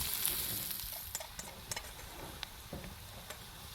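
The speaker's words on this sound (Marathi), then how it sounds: "कांदा तळून घेतला आपण लालसर होस्तोवर" Onions frying in two ladles of oil in a pan, outdoors at a farm, a steady soft sizzle with scattered small pops and ticks throughout.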